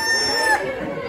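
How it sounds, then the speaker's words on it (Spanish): Roosters crowing at a rowdy gathering in 2022, one bright crow rising over a busy, noisy background with no clear talk. "aquí están los gallos de gallos"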